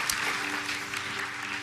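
Sustained applause from a church congregation during a Sunday sermon, honoring the pastor's wife; steady, dense clapping fills the space at moderate volume with no break.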